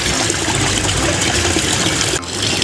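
Water runs steadily in a shower while toys are washed, a loud continuous hiss and splash close by with a brief dip near the end.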